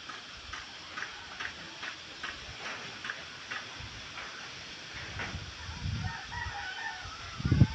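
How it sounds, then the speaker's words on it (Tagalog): Roosters crowing outdoors on a windy morning, several distant crows rising over a steady wind hiss with clucking and small ticks, and a louder, nearer crow bursting out at the end. "Ito yung mga manok namin na iwan guys oh."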